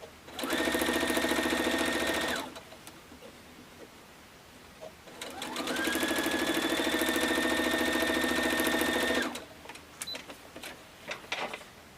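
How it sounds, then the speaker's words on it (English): A sewing machine stitches diamond shapes on a quilt in two bursts, a steady whirring hum that stops, then runs again for a longer stretch, close and clear with no talking. "I've sewn that second set of diamonds on"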